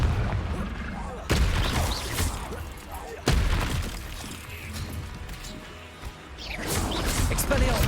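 Confringo fire spells in the Hogwarts Legacy video game burst with sharp explosive cracks, two sudden blasts followed by rumbling crashes and shattering during combat, with shouted voices mixed in.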